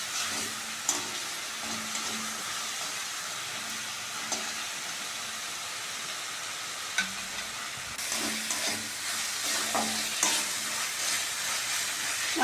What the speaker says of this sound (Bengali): মশলা ভালো করে কষে নিয়েছি